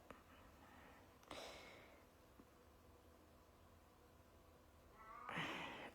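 A cat meows twice, first near the start and again louder near the end, over faint room noise with no talk.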